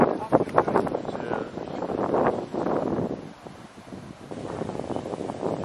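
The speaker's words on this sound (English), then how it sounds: "Very windy. Very windy." Strong wind at a scenic lookout in Brisbane buffets the microphone in loud, uneven gusts and roars, with a brief lull midway; people talk over it.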